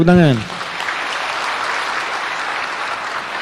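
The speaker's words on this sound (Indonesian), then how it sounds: "Ayo, berikan tepuk tangan." Audience applause at an Islamic religious talk: a short spoken call at the start, then steady, dense clapping from a large crowd that carries on evenly to the end.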